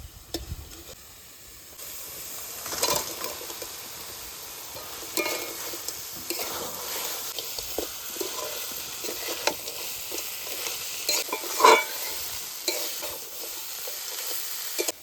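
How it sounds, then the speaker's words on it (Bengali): Crab that was fried first is frying again in a masala of chilli and tomato paste, with a steady close sizzle and repeated stirring scrapes running throughout, no talk. "কাঁকড়া দেওয়ার পরে একটু ভেজে নিলাম"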